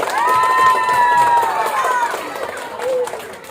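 Children and adults in a primary school class in Barru cheer and shout for students ranked at a ceremony, with light clapping under the loud, close crowd voices that fade briefly before a final swell.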